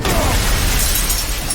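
Gunfire in a film shootout scene, a sheriff and an attacker exchanging shots outside a bank; a dense, loud burst of broadband noise fills the whole moment without any clear break.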